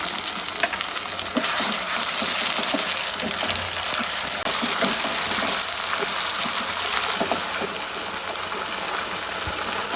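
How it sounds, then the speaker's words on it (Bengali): A blended paste of ginger, garlic, cumin and dried chilli fries in hot oil for a spicy chicken curry, a dense continuous crackling sizzle with faint stirring, close up and without talk. "আমার কিন্তু মশলাগুলো দেখো ভাজা ভাজা হয়ে গেছে আর মশলাগুলো অবশ্যই ভেজে নেব"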